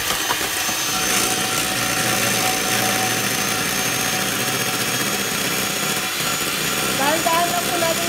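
An electric mixer whips three egg whites for a custard cake, giving a steady, loud motor whir that runs throughout.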